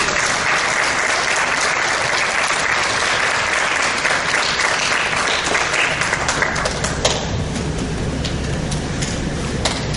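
A church congregation claps loudly and continuously, a dense sustained burst of applause that fills the room from start to finish with no talk above it.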